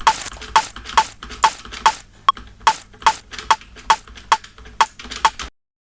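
A short, bright percussive rim click from a pitched-up sample, hit repeatedly in a steady rhythm about a dozen times, each with a ringing metallic edge, with a brief pause midway, in dubstep sound design made with Serum 2.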